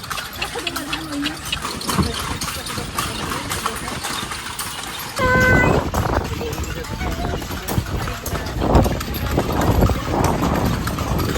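A horse's hooves clip-clop steadily on pavement, drawing a cart along in Ilocos, with an engine idling and people talking over the rhythmic steps.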